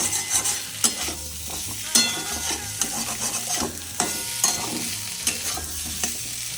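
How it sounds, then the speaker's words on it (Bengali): Boiled potatoes stirred and fried in a pan for a vegetarian Bengali dum aloo, steady sizzling broken by repeated scraping strokes and clacks of the spatula against the pan, with no speech. "এবার নেড়ে নেড়ে এটাকে একটু ভাজবো। একটু লাল লাল হয়ে গেলে আমি তুলে নেবো।"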